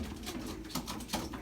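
Racing pigeons at the loft give soft, low repeated cooing calls close by, steady and unhurried with no talking.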